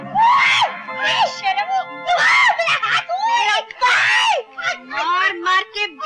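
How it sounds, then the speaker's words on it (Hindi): A woman screams loudly in high, wavering bursts repeated over several seconds, part of a Bollywood comedy scene, with a few shrill cries following in quick succession. "क्या चिल्ला रही हो?"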